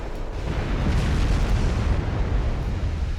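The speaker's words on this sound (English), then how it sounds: "some of them have switched up to the battleship. Now she's firing at us." Heavy gunfire from a battleship in a naval war game, a continuous loud rumbling barrage of booms and blasts filling the whole stretch with no pauses.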